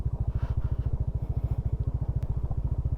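A motorcycle engine chugs in a fast, even low pulse, close and loud, steady throughout on a ride toward barangay San Ramon in Laua-an, Antique.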